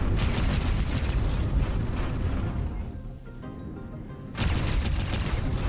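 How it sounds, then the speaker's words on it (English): Flak guns firing and exploding in a space station video game, a dense continuous roar of blasts and booms, loud and close, easing briefly in the middle before surging again. "I love that the flak actually explodes."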